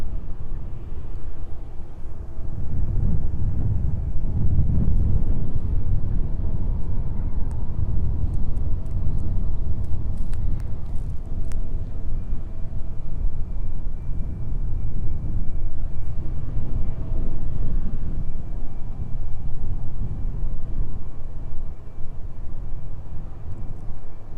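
Jet engines start up on an airport apron near a tug and ground crew, a steady low rumble that swells and holds, distant and continuous, with no talking.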